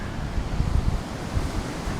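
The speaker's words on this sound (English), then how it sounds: "I'm next to the waves." Ocean waves roll onto the beach at Da Nang, Vietnam, a steady rumbling surf close by with gusts of wind buffeting the microphone, no voices.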